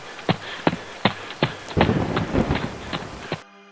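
Heavy rain pours down amid a storm, with sharp thunder cracks and rumbles breaking through a steady hiss of falling water, loud and close before cutting off abruptly.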